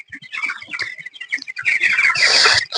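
Broiler chickens on a poultry farm cluck and chirp in quick, overlapping calls, close and fairly loud, building into a dense burst of squawking toward the end.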